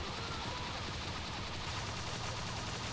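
Luffy's Gatling attack in a One Piece game comes as a dense, unbroken barrage of rapid impacts, loud and sustained, with no pauses over the whole stretch.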